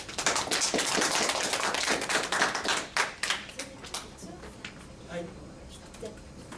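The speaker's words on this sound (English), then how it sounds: "Please welcome him with a big applause." An audience at an AI round table in Tokyo applauds a keynote speaker, dense clapping loud at first, then thinning to scattered claps and fading over several seconds.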